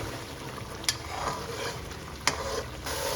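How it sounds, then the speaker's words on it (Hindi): Chicken karahi gravy bubbling and frying in a pan while being stirred gently, a dense continuous sizzle with a couple of sharp utensil scrapes, close by and without voices. "आप इसको हल्के हल्के चलाते जाएंगे ताकि ये नीचे से जल ना जाए"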